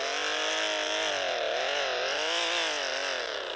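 A Dodge Charger in a video game scrapes along a surface, giving a loud, continuous grinding and engine drone with a wavering pitch that holds steady and close for several seconds.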